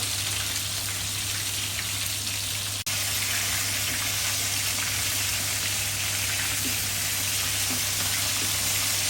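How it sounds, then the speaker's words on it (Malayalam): A pot of rice water for fish biryani bubbles and simmers with a steady, dense fizzing noise throughout, broken only by one brief click. "ഏകദേശം തിളച്ച് വരുന്നുണ്ട് കേട്ടോ"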